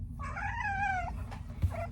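Nala the cat lets out one long, drawn-out meow with a growling edge, fairly close, followed by a shorter second yowl over a low indoor rumble; no one speaks.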